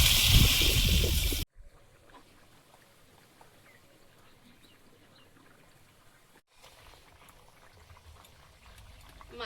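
Water poured into a pan where a fish head and chopped chillies are frying for a Bengali fish curry, giving a steady low simmering, bubbling hiss after a loud opening sizzle.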